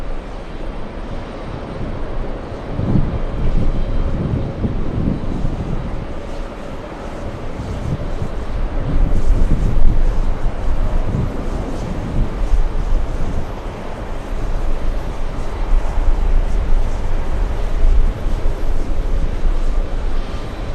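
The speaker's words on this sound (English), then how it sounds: "we have Lufthansa crossing runway 22 right" A Lufthansa airliner crosses runway 22 right as a broad, continuous roar of jet engines rumbles at a distance, blurred by wind noise on the microphone.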